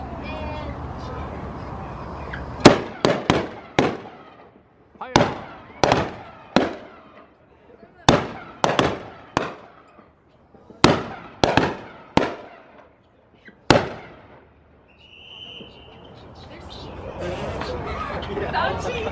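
A gun crew fires aboard the battleship USS Alabama, sending out roughly fifteen sharp, loud bangs in irregular clusters with echoing tails. People can be heard talking before the firing starts and after it stops.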